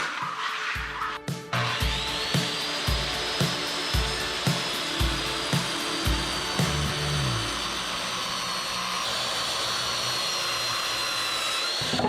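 A power saw cuts angles off wooden boards for a rink-side bench, a loud rhythmic series of regular pulses for several seconds, then a sustained whining run with a high tone that fades near the end.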